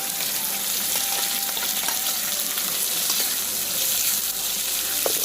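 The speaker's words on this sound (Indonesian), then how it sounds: "Lanjut kita masak. Tumis." Spice paste being stir-fried in a pan outdoors by a rice-field hut near a river gives a dense, continuous close sizzle with faint occasional scraping of a utensil, loud and steady, no speech.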